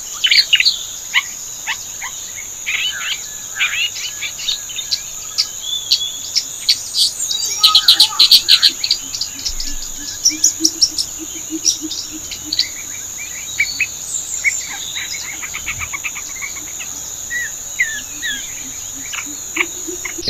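Grey-backed shrike in shola forest at Pampadum Shola National Park, Vattavada, giving scattered sharp chirps and short bursts of song over a constant high insect drone, moderately near.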